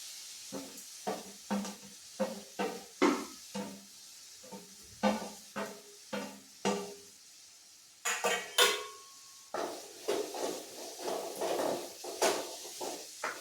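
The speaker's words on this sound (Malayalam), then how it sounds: "ഇനി നമുക്ക് സവോളയും പച്ചമുളകും അരിഞ്ഞ് വെച്ചത് ഇട്ട് കൊടുക്കാം" Chopped onion and green chilli going into a pan for Kerala-style kadala curry and being stirred, a series of sharp clinks and scrapes of a utensil against the pan with light sizzling between strokes.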